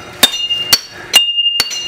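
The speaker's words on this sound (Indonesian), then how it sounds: "Dari suara pukulan palu dan besi yang bersahutan." A traditional blacksmith's forge in Nagara, South Kalimantan: a hammer strikes iron four times in about two seconds, each blow loud and sharp with a bright metallic ring that hangs on between strikes.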